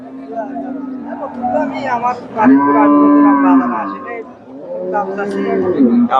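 Cows moo loudly close by in long, drawn-out lows, one after another, over the busy chatter of the crowded Chandaikona cattle market in Bangladesh.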